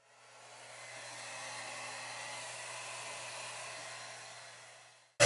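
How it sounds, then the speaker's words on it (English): A hair dryer blows continuously for about five seconds while drying hair, a steady airy whoosh with a faint motor hum, close and even, then cuts off abruptly at the end. "I'm gonna continue to like blow dry it"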